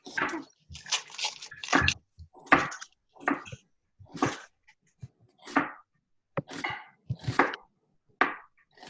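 A knife cuts an onion into super thin slices at a slow, uneven pace, each pass giving a close, crisp crunch against the board with short quiet gaps between cuts.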